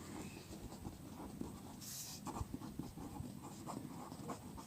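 Chalk or marker writing math on a board during a lecture, a steady run of faint scratchy strokes and taps with brief pauses between them, with no talking over it.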